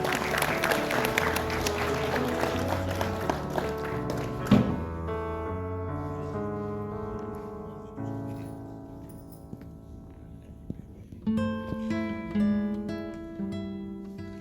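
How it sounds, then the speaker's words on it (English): An audience claps at a manufacturing and MSME business conclave, the applause swelling at the start and then fading beneath stage music with a few scattered claps. "Can we have some louder applause,"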